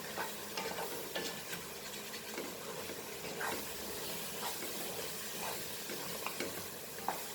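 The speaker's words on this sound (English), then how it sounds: "Till the oil leaves to the pan, fry this masala." Mutton masala for Kolhapuri dry mutton frying in oil in a pan, a steady close sizzle and hiss with occasional scraping stirs and small pops, continuous throughout without speech.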